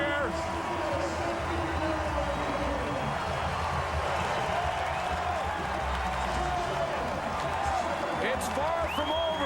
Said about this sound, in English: Now they can cheer.